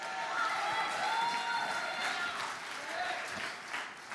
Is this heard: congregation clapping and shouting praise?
yes